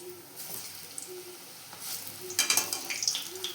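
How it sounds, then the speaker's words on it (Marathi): Bread sandwich pan-roasting in a pan over a low flame, a soft, steady sizzle and crackle with a few brighter bursts of frying near the end, heard up close with no one talking. "मंद आचेवर बारीक करून सँडविच गुलाबी रंगावर भाजून घ्या"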